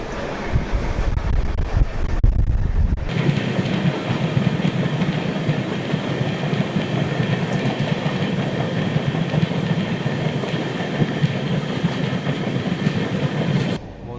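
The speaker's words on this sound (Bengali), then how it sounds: "একটা ট্রেন যাচ্ছে পুরো চিল্কার পাশ ধরে" The Howrah–Chennai Mail train runs alongside Chilika lake, a loud continuous rumble of wheels and carriages with rhythmic clatter and heavy wind buffeting from an open window, lasting throughout.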